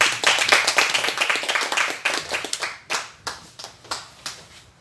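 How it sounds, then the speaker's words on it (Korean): Audience clapping at a church worship meeting to welcome a pastor to the stage, loud and close at first, then thinning into a few scattered individual claps before dying out. "나오실 때 박수로 환영해 주시죠"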